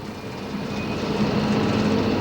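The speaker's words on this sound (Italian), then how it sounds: "Il treno continua la sua marcia." A Gailtalbahn train between Villach and Kötschach-Mauthen in Austria runs steadily at about 80 km/h, heard from the cab as a continuous rumbling roar with faint rail tones, rising slightly in loudness.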